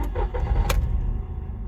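A 2015 Volkswagen Up with a non-turbo engine, suffering power loss, cranks and starts, then settles into a steady low engine rumble. A short sharp click or clunk comes early on, all heard close up with no talk.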